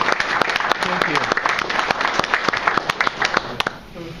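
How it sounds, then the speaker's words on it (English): An audience claps for a student presentation, a scattered, fairly close round of applause that thins out and fades near the end. "Let's give them one more round of applause."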